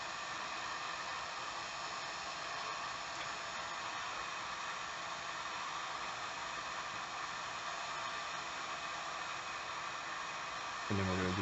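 A heat gun blows a steady, loud hiss of hot air while shrinking heat-shrink tubing onto lockpick handles, continuous and even from start to finish, ending with a soft thump.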